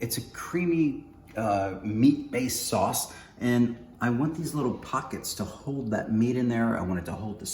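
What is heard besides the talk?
No everyday noises stand out.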